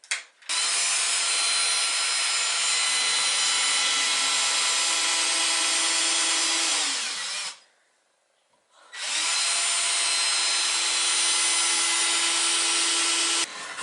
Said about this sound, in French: maintenant je vais faire les avant-trous avec une mèche un peu plus petite, par exemple du 3